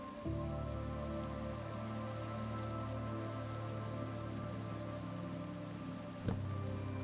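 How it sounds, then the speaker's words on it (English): Steady rain in Minecraft pattering down on a surface, a constant hiss with a low hum beneath and a brief sharp knock near the end; no voices. "Oh, I feel bad for my horse being in the rain."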